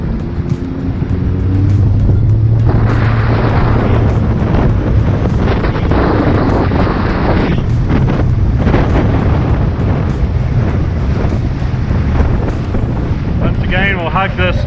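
Sea-Doo GTX Limited 300 personal watercraft turning in a circle on open water, a steady loud engine drone with rushing water and wind buffeting the microphone throughout.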